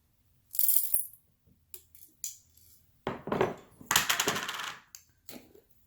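Peppercorns dropped into a mixie jar: several bright, clattering rattles of small hard pieces striking the jar come in uneven bursts, close and fairly loud, with brief quiet gaps between them.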